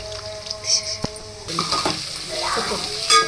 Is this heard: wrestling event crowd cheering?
no